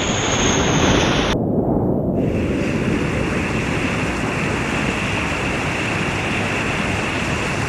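Ocean surf around a kayak, a loud continuous broadband rush of water mixed with wind buffeting on the microphone, with no pauses.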